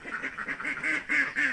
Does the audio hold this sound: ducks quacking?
yes